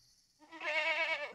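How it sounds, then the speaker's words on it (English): A goat bleats in the Call of Duty Warzone 2.0 video game, a single drawn-out wavering bleat lasting about a second, fairly loud and clear with no talk over it. "I heard the goat."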